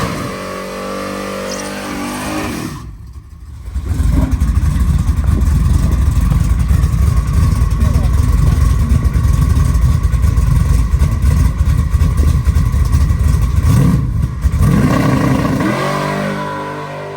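An OBS truck with a ZZ632 big-block engine makes a drag pass. After a brief idle and a short gap, the engine bellows into a loud, sustained full-throttle roar for about ten seconds, then drops back to a lower rumble.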